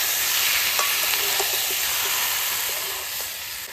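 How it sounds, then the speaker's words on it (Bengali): Potatoes go into chicken curry frying in a pan, a loud, steady sizzle and hiss with faint stirring clinks, easing slightly toward the end. "এবার আমি আলুগুলো দিয়ে দেবো।"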